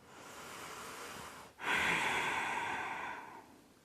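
A slow, deep breath held in yoga bridge pose, heard up close: a long steady exhale, a brief pause, then a fuller, louder breath that fades gradually.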